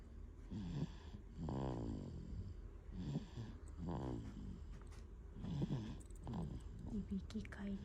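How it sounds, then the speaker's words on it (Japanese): A sleeping baby snores softly in repeated breathy, rhythmic snorts, close to the microphone, with a few quiet background murmurs between breaths. "いびきかいてねんねしています。"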